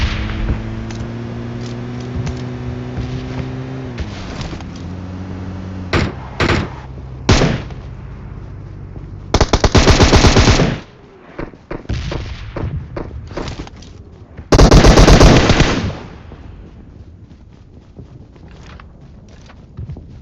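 Gunfire in the mobile battle-royale game PUBG Mobile, with scattered single shots followed by two dense automatic bursts, set among quieter in-game ambience and footsteps.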